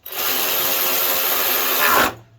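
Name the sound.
power tool tightening big bolts on a New Holland water pump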